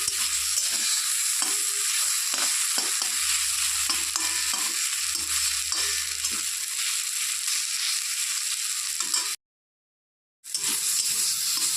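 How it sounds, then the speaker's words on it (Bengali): Gima shak greens frying in a pan, a steady broadband sizzle running throughout with scraping stir strokes, close and loud, broken by a brief full silence near the end. "শাকটা হয়ে গেছে আর একটু ভাজতে হবে"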